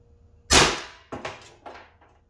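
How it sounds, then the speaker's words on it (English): A Valken M17 high-pressure air gun firing 7.1 gram aluminum balls at 1100 psi on a range gives one sharp, loud crack, followed by two fainter clattering knocks as the shot settles. "safety off, firing down range"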